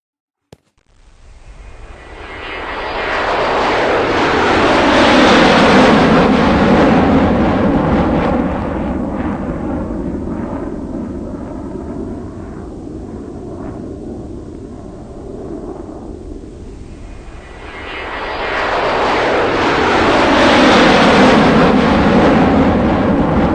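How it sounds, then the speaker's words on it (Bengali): Air Force fighter jets passing overhead during a Republic Day parade, a loud roaring rumble that swells, eases slightly, then surges again as another jet passes, with no voices. "এয়ারফোর্সের যুদ্ধ বিমান আকাশও তার বীরত্ব দেখাবে।"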